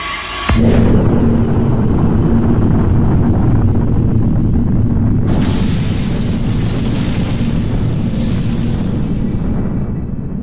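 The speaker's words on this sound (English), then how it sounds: "The splitting of deuterium was the basis for creation of the most destructive bomb, the hydrogen bomb." A hydrogen bomb explosion erupts as a sudden deep boom, then rolls on as a loud, sustained roar and rumble, with a second swell of hiss partway through, alone and without speech.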